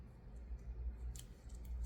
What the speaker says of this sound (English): we can always snip these off at the edges